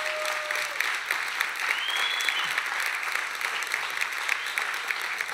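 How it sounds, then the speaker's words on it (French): An audience claps steadily for the church of Rennes at a French church gathering, a dense, sustained applause filling the room from start to finish, with a faint voice or whistle drifting over it. "Et j'aimerais que vous puissiez les acclamer."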